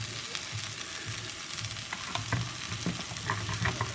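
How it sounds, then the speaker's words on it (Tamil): Pav bhaji stirred with a ladle in a hot pan after coriander leaves go in, a steady sizzle with scraping, knocking strokes of the ladle, close and clear. "கொத்தமல்லி தூவி கிளறிக்குவோம்."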